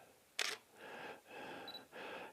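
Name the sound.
camera shutter clicking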